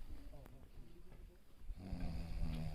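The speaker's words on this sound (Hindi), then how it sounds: "हमारे बूस्टर डोज वाले भैया तो सो गए, खर्राटे आ रहे हैं भैया।" A man snoring while asleep, heard as a few close, rough, rumbling breaths that grow louder toward the end, with a faint voice murmuring in the background.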